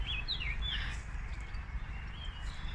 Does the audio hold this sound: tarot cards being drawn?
no